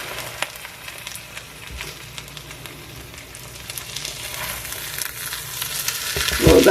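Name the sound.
food frying in electric skillet at 400 degrees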